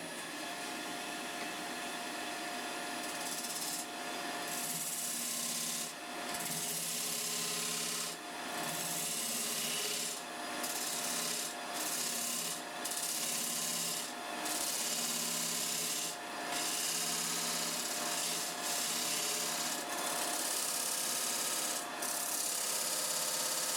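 Steady scraping and rubbing of a tool against spinning wood on a lathe, continuous and fairly loud with a constant motor hum, no talking.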